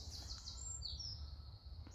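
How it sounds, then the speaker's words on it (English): Birds sing and chirp in a quiet UK woodland, with high, thin calls repeating over a steady low background hum. "No noise but birds and just wildlife."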